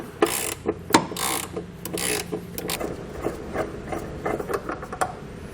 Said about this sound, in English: to grab a 18mm socket and completely remove it. These are pretty tight, so I suggest getting a longer ratchet like I have